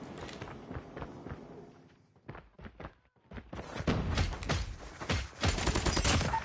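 Gunfire in the video game Apex Legends, with bursts of rapid shots, a brief lull of scattered single shots, then heavy sustained firing that grows louder toward the end.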